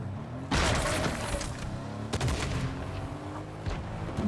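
A Fortnite firefight erupts with rapid bursts of gunfire and turret shots, loud crackling volleys starting abruptly and recurring in clustered bursts with a booming low end, no voices.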